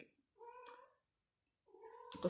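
A cat meows twice, clear and close, with a short pause between the calls and a brief rustle at the end.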